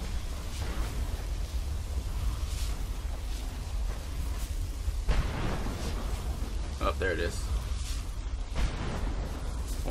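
Spell explosions in the game Skyrim, a series of muffled booming bursts over continuous battle noise and game ambience, with some speech mixed in.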